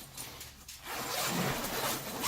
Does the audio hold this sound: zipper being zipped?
yes